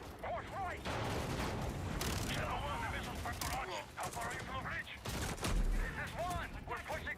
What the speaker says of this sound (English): Oh, what, the shotgun blasts?